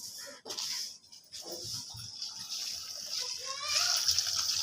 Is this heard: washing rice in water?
yes